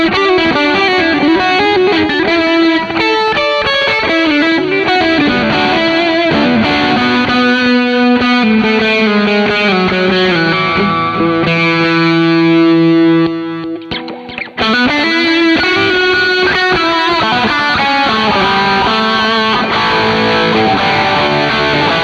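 Electric guitar played through an overdrive pedal with delay set high on an affordable pedalboard, producing a loud, sustained distorted tone with echoing repeats; chords and lead lines ring continuously, briefly dropping out near the middle before resuming.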